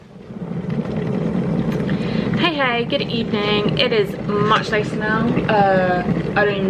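A kettle boiling late at night in a home kitchen gives a steady rushing, bubbling rumble beneath close, relaxed conversation between people.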